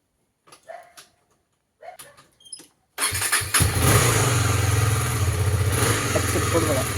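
A new motorcycle, parked for over 15 days, cold-starts: a few brief voice sounds come first, then the engine catches abruptly and settles into a loud, steady, close idle.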